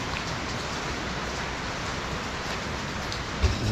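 Rain pours during a storm, a steady, even wash of noise with no voices and a single soft knock near the end.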